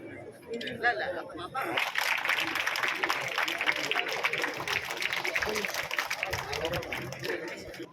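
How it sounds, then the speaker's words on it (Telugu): An audience at an outdoor official gathering claps in a dense, steady patter that runs for several seconds, with crowd chatter and voices mixed in beneath the applause. "క్లాప్స్ గట్టిగా రావట్లేదు."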